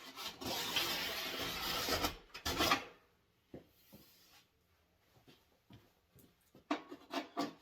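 A file rasps along a snowboard's steel edge with long, close strokes, loud and continuous at first, then breaking into shorter, fainter scrapes and a few sharp strokes near the end.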